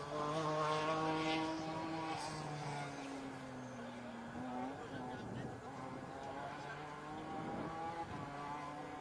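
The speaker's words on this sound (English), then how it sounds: "That's a BMW 1 Series, but the version with a boot." A BMW 1 Series sedan with an M pack, running as a rally car on a special stage of Rally Wervik 2022, passes with a droning engine note that rises and falls under steady talk.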